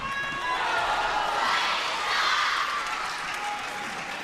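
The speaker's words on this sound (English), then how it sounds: "The crowd now growing louder, chanting the name of Sun Ying-sha." Crowd noise fills an arena at a women's team table tennis match, China against Sweden in London, as a broad, steady roar of cheering and chanting that swells in the middle and stays loud throughout.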